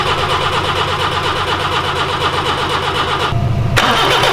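An engine cranks and fires after fuel is poured onto the carburetor in a workshop. It is loud and close, with a steady rough churning that drops briefly and then catches again, and no voices are heard.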